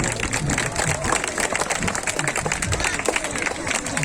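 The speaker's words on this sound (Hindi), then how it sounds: "एक बार जोरदार तालियां।" A crowd applauds loudly at an outdoor camel display event, clapping mixed with crowd noise and an announcer's voice over a public address system throughout.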